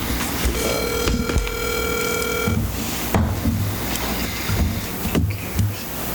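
A phone dials out during a city council meeting in Iola, Kansas: a sustained dial tone, then a quick run of button beeps, followed by ringing pulses and faint room noise.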